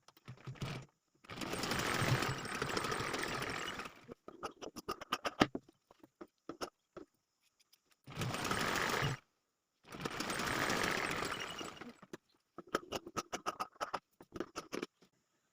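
An electric sewing machine stitches a choli blouse seam in short bursts of rapid, buzzing whir separated by pauses, with fabric rustles and small clicks between runs, close and alone.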